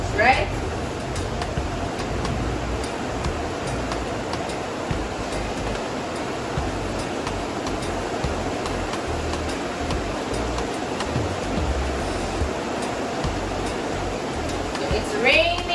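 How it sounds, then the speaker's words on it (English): Heavy rain pours down outside a home in a steady, dense hiss that holds without a break. A voice talks over it now and then. "It's raining, it's pouring"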